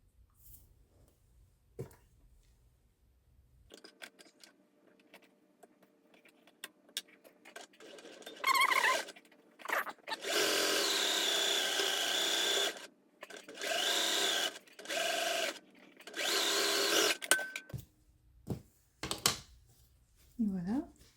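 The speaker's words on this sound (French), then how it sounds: "Alors, je couds les deux autres côtés." A sewing machine stitches the sides of a fabric quilt block: after quiet handling, loud mechanical whirring starts in several sustained runs separated by short pauses, and someone talks at the start and in between.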